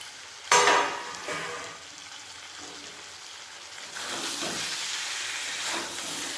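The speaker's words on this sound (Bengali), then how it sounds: "এরকম ঢাকা দিয়ে দিয়ে মাংসটা ভেজে নেব" Mutton head meat fries in a covered pan, opening with a sharp burst of sizzle that settles into a low, muffled hiss, then swells again into steady frying with faint stirring scrapes; no talking.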